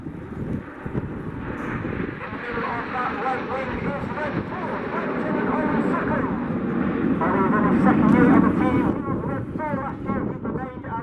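Red Arrows jets flying the Phoenix formation at the Duxford Flying Finale air display: a broad, steady roar of jet aircraft that swells toward the end, mixed with wind noise and crowd or commentary voices.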